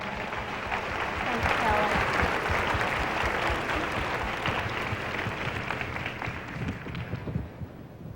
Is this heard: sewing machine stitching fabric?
no